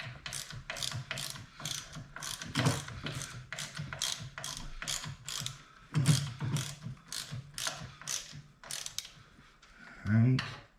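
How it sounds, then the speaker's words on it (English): Ratchet wrench tightening mounting bolts on a Harley Davidson Dyna Wide Glide during a reduced-reach conversion kit install, rapid repeated clicking strokes, close and fairly loud, continuous throughout. "Get those tightened most of the way like this, and then we'll torque them up."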